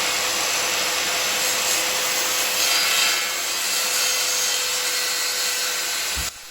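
A power saw cuts through plywood with a loud, continuous rasping whine, close and unbroken, before stopping abruptly at the end.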